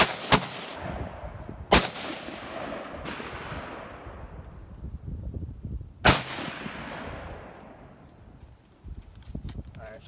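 Loud rifle shots at an outdoor shooting range, with three sharp reports (one near the start, one a little later, one mid-clip) whose echoes trail off, as people talk in the background.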